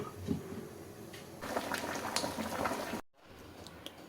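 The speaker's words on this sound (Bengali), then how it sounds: "এবার এগুলোকে আমি খুব ভালো করে সেদ্ধ করে নেব, তার জন্য ঢাকা দিয়ে দিলাম।" Cabbage and tomatoes simmer in a pot of hot water with the lid on. A faint, steady bubbling hiss grows fuller midway, then cuts off abruptly before a quieter simmer resumes. No voices.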